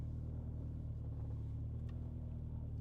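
A Honda CR-V engine with a freshly replaced fuel pump idles smoothly in a steady low rumble, even and close, with no misses or surges and no talking.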